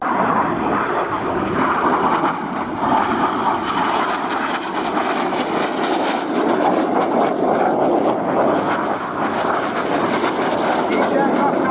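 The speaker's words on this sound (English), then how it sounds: "These aircraft now pulling up to 60" RAF Red Arrows display jets roar overhead in a loud, continuous engine drone that swells slightly, with a commentator's voice running beneath the noise.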